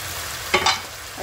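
Spice paste sautéing in oil for a chicken roast, a soft ongoing sizzle broken by two quick scraping strokes of a spoon against the pan.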